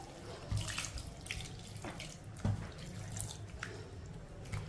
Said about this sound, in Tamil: கீரை வேகிற அளவுக்கு நம்ம கொஞ்சம் தண்ணி ஊற்றிக்கிடுவோம்